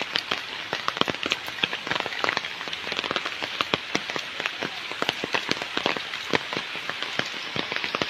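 Steady rain falls outdoors near the sea, with green surroundings and bamboo groves nearby, a dense patter of drops hitting surfaces close by, with sharp individual splats all through. No voices.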